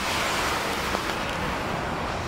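Typhoon Kristine storm in Bicol: steady broadband roar of wind and heavy rain, continuous and loud throughout with no talk.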